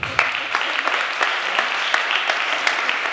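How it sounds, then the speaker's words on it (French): Audience applause at a French-language political conference against the No Billag initiative, a steady dense patter of many hands clapping filling the room, loud and continuous with no talk over it. "Mesdames, Messieurs, on vous applaudit."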